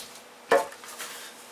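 Rolled bread dough drops into a loaf pan with a single soft thud and a brief knock, fairly close, followed by quiet handling noise.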